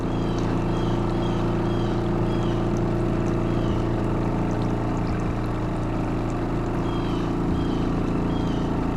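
Washing machine draining during off-grid laundry, a steady loud mechanical hum and rushing water that continues unchanged throughout, with no talking.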